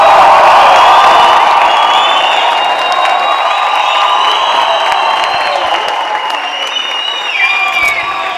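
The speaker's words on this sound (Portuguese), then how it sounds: "Uma salva de palmas que o bagulho começa agora." A studio audience at a Christmas special comedy taping bursts into sustained applause mixed with cheers and whoops, a dense, loud wash of clapping that holds steady throughout without fading.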